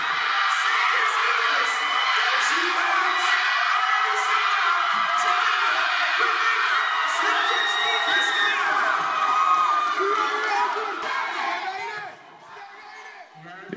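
A large home crowd at the Carifta Games athletics track in Grenada cheers, whoops and shouts without pause during a race, loud and close, with high children's yells above the roar that dips briefly near the end.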